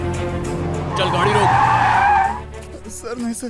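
A car skids hard, its tires squealing loudly over a steady engine drone in a movie scene, the screech peaking for about a second before fading, with a voice briefly heard afterward.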